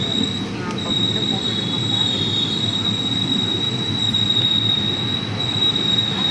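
An Indian express passenger train rolls slowly with a high, sustained wheel squeal ringing over a low rumble, the sound of carriages braking toward a halt.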